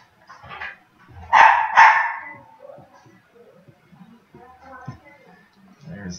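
Dogs bark excitedly indoors after a doorbell, two loud close bursts around the second mark followed by fainter yips, with a person talking intermittently.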